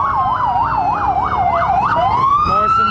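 Morrisonville ambulance siren wailing close and loud, a rapid rising-and-falling yelp repeating about six times before switching to a long rising tone, with road traffic rumbling underneath.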